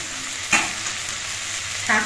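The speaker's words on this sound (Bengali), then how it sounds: "এবার এর মধ্যে আমি কোটানো শাকগুলো দিয়ে দিচ্ছি।" Chopped water spinach tumbles into a pan of frying potatoes and eggplant, giving two soft thumps over a steady close sizzle of hot oil.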